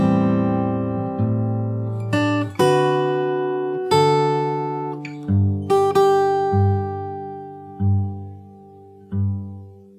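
Fingerstyle acoustic guitar plays the chorus of a song: sustained ringing chords and bass notes struck a few at a time, with repeated low notes near the end, close and alone.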